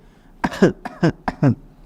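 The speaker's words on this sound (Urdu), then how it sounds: "اور تھوڑا کھانسیں زور سے، اس طرح سے" A person coughs forcefully on purpose as a demonstration, giving a quick series of about four loud, close, harsh bursts with short gaps between them.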